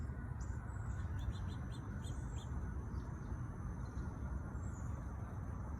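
Tufted titmouse calls near garden bird feeders, faint high chirps scattered over a steady broadband background hiss, with a few brief tweets standing out at a distance.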